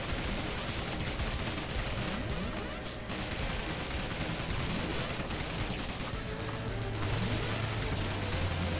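Sustained rapid gunfire from a held-down shoot button in the game Horace, dense continuous crackling bursts that run the whole stretch without pause, loud and busy throughout.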